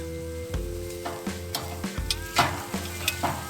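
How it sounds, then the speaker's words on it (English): Carrots fry in a kazan for plov and get stirred with a metal utensil, giving a soft sizzle broken by regular scraping knocks against the pot, along with a steady low hum. "And we have to cook and stir carrot."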